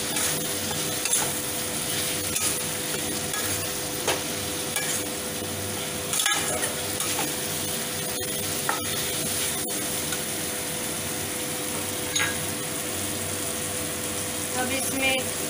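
Ghugni, a Bengali yellow pea curry, being stirred and mixed in a frying pan, with a steady low sizzle and intermittent scrapes and clinks of a spoon against the pan, close by and moderately loud.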